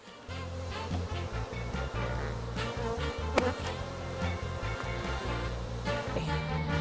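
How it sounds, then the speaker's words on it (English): Honeybees around a hive, a dense steady buzzing drone held close and continuous throughout, with no talk over it. "A bee."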